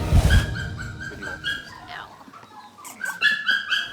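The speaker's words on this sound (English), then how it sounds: "Nerida is preparing herself to say goodbye to the first of her 7 pups" Several puppies from a litter of seven yip and whimper nearby in high, thin bursts, opening with a louder thump and then trailing into short overlapping whines and barks.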